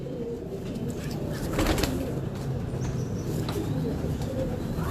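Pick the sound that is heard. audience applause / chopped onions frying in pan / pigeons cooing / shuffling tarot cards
pigeons cooing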